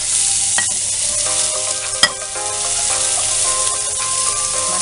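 Squid stir-frying with onion and chili in a pan, a steady loud sizzle with scraping stirs and one sharp clack of a utensil partway through.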